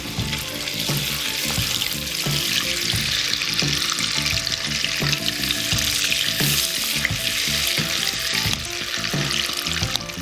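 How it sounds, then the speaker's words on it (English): Butter sizzles and crackles steadily in a hot pan for crawfish étouffée, a continuous frying hiss with small pops throughout. "You're going to hear that little sizzle in there."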